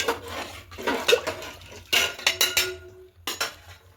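Chicken being stirred with vinegar in a metal pot while making chicken biryani: a spoon scrapes and clinks against the pot in uneven bursts, some soft and some sharp, with short quiet gaps between them and no talking.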